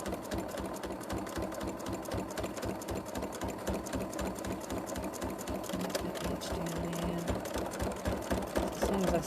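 A sewing machine hums and chatters continuously while stitching thread into a paper collage, with an even, close mechanical rhythm throughout and faint talk underneath.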